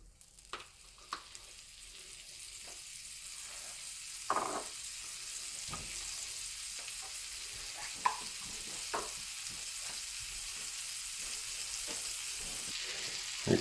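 Two tablespoons of butter sizzling and browning in a hot pan over medium-high heat, a soft steady fry with occasional clicks and scrapes.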